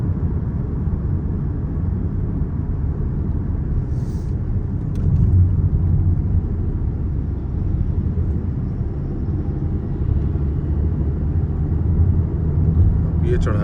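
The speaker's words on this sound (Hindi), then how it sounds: "गाड़ी कोई कलर कहार की चढ़ाई चढ़ रही है" Oshan X7 facelift 2025 car climbing the Kallar Kahar ascent, a steady low cabin engine and road rumble that holds even from start to end.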